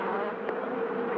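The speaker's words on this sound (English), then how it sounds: "500 bees or so have already come out." A swarm of Africanized killer bees buzzes close by, a dense, steady drone of many wings with one insect passing even nearer for a moment, no voices.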